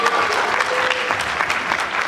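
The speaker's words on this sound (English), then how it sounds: "Round of applause." Audience at a video game talk about He-Man and G.I. Joe toys breaks into a brief, lively round of applause, close and continuous with scattered louder claps.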